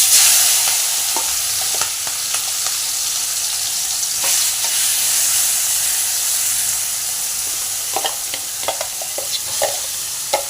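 Mustard seeds and cumin sizzle in hot oil for upma, a steady frying hiss with scattered crackles and pops that cluster more densely toward the end.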